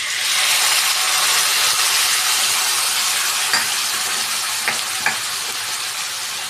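Ground cumin, black pepper and dried chili paste fry in a pan with a loud, steady broadband sizzle, broken by a few faint clicks near the end.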